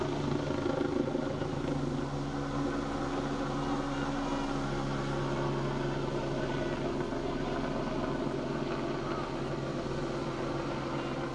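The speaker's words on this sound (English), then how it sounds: "You see the helicopter just in the distance as well, so we'll be drowned out for a second or two." A helicopter passes at a distance over a women's Premier Division hockey match, producing a steady, low mechanical drone with faint rotor hum that holds evenly throughout without any talk.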